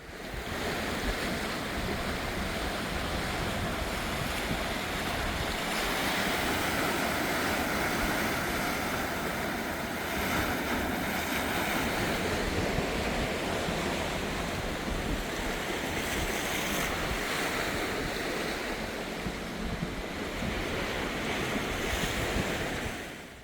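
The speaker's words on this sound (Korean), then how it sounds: "바다와 아주 가까워서 파도 소리가 시원합니다" Steady roar of ocean surf washing onto the shore beside a coastal deck path in Korea, loud and continuous with gentle swells and wind, no voices.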